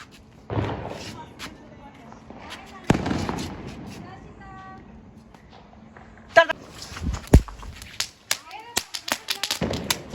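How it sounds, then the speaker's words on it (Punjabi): A string of firecrackers going off during a Vishwakarma Day celebration: sharp crackling pops and bangs in uneven bursts, loudest near the end, with people talking in between. "ਮੰਮੀ ਤੇ ਡੈਡੀ ਤੜਤੜ ਵਾਲਾ ਬੰਬ ਚਲਾ ਰਹੇ ਨੇ"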